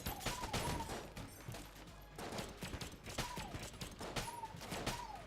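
Rapid bursts of silenced gunfire in Enter the Gungeon, the silencer gun used to clear a room; steady clattering volleys repeat in several waves, with game effects chirping between them.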